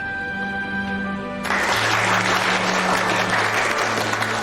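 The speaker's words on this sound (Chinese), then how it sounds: "先别鼓掌" Applause from a group follows a lawyer's courtroom defense in a criminal case. Soft music plays alone at first; then dense, steady clapping breaks in at about one and a half seconds and continues to the end over the music.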